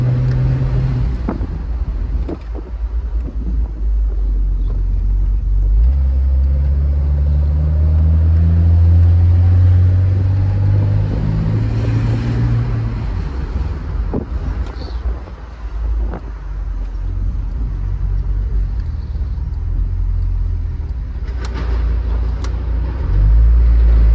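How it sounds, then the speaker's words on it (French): A Mercedes-Benz SL 280 Pagode inline six-cylinder engine drones steadily and loudly while driving, with heavy wind buffeting the microphone throughout and no talk. "beau bruit du 6 cylindres"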